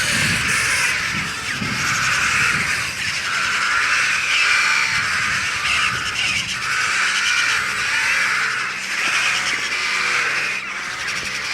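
Crows and other corvids caw repeatedly in a cattle house, several harsh calls overlapping in a steady, loud chorus that carries on without a break and without speech.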